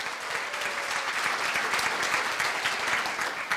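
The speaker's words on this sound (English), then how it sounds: "Give them a round of applause." Audience at a community business forum on child care in Marin breaks into steady, full applause, a dense wash of many hands clapping continuously throughout with no voices standing out.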